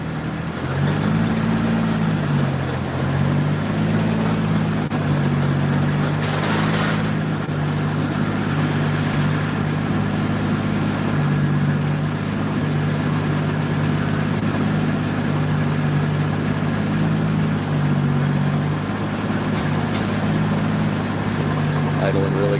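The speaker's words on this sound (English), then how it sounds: "Idling really good right now." A tuned car engine idles steadily for over twenty seconds with a low, even hum. The drone wavers slightly in pitch now and then, loud and close.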